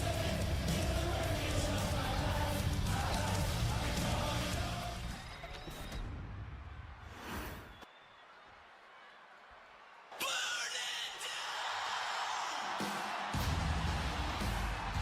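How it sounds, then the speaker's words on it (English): A wrestling crowd at an MCW Pandemonium event roars and cheers loudly, fading out midway, then surging back with loud cheering near the end. "Crowd getting behind Jinja for this one too."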